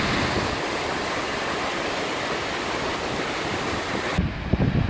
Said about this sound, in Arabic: شلال شفاش.